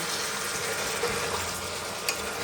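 Chicken and potato pieces stir-fried in a pan, a steady broadband sizzle with a couple of soft scrape knocks, close and continuous with no talk.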